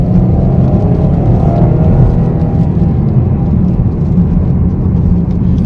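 A 2017 Chevy Camaro with a 275 hp V6 accelerates, its engine a loud, continuous low drone with a faint rising tone, heard from inside the car over road rumble.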